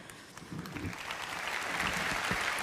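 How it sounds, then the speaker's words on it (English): A conference audience at a Reform party event applauds, a broad wash of clapping from many hands that grows steadily louder and denser across the moment. "I'm sure there are people from Wales clapping right there."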